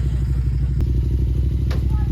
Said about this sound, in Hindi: बाइक को कोल्ड स्टार्ट लगाना यार, स्टार्ट हो जाए भाई